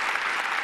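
Dense crowd applause at Trump's presidential inauguration, a short steady burst of many hands clapping at once, with no pause or break.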